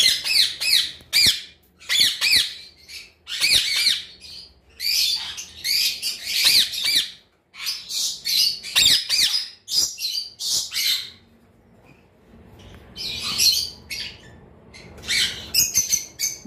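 A pair of ringneck parakeets of a high mutation, one a clear-head, let out loud, close bursts of shrill squawks and chirps in rapid repeated calls. Brief quiet gaps break the calls, and no one talks.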